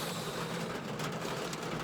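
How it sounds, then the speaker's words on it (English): Hail falling during a mountain storm, a dense, loud, continuous rattling hiss that stays steady and unbroken throughout. "This trip, a little hail."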